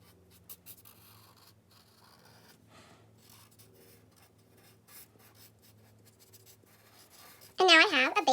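A pencil drawing lines on paper while sketching a human figure, with faint, close scratchy strokes in short runs, and a voice breaking in loudly near the end.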